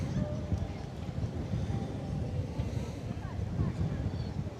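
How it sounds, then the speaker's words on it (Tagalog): Steady wind buffets the microphone with a low, rumbling roar that continues without a break throughout. "Hangin."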